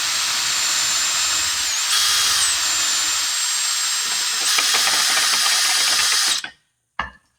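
A handheld power drill spins a loosely held workpiece, giving a loud, sustained high-pitched whirring hiss with slight wavering before cutting off abruptly, followed by one brief knock near the end.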